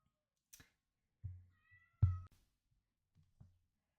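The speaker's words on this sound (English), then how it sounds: "my other cat was meowing at the door" A cat meows at a door indoors, a few short separate calls with one clearer tonal meow near the middle, fairly close in a quiet room with soft thumps between.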